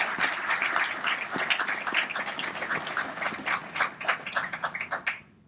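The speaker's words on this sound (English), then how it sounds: "Let's give them one round of applause" Sustained applause from a graduation ceremony audience at an Air Force basic military training event, many hands clapping steadily in a dense, fairly close wash for about five seconds before fading quickly.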